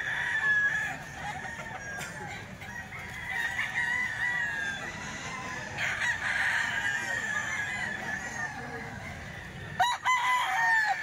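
Gamecock of the golden boy sweater line at a market stall crows and clucks over a busy background, with several strong bursts and a sharp noise near the end.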